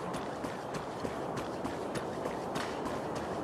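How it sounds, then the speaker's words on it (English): Bronya walks in Honkai: Star Rail, her footsteps falling as a steady, evenly spaced series of soft, squelchy taps over a busy game background, moderately close and fairly quiet. "do y'all hear her footsteps?"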